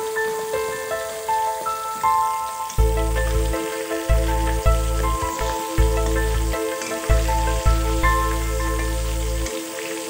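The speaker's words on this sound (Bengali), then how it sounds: "মাছে লবণ হলুদ দিয়ে মেখে মাছগুলো ভেজে নিচ্ছি" Fish coated in salt and turmeric frying in hot oil, giving a steady, close sizzle that runs throughout. Low thumps and a faint tonal backing sound underneath, with no talking.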